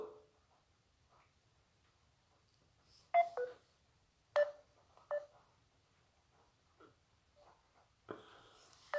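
Telephone keypad tones while dialing to call back a contact, a sparse, irregular series of short beeps heard faintly and alone in a quiet room.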